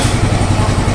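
A Yamaha Fazzio scooter engine runs at idle, a loud close steady puttering with a low throbbing rhythm, no voices over it.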